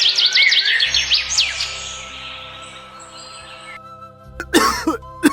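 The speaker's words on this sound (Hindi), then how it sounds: "एक दिन सुबह हरिराम खाट पर लेटा हुआ जोर जोर से खांस रहा था।" A man lying on a cot in an animated Hindi story coughs loudly in a short, rough burst near the end, after bright bird chirps and a low steady hum in a quiet morning setting.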